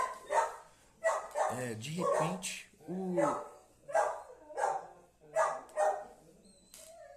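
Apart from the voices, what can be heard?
dogs barking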